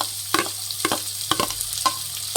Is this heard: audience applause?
no